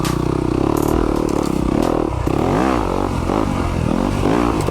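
2020 Yamaha YZ250FX dirt bike ridden on greasy trail terrain in southern Utah: loud, close engine revving that rises and falls in pitch, with clattering from the ground.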